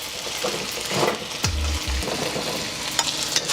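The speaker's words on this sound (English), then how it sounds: "Once you got all your pieces touching the wok, we're gonna let this cook for about 2 minutes." Chicken pieces for chow mein sizzle steadily in oil in a wok, a continuous close hiss broken by a couple of brief low clunks.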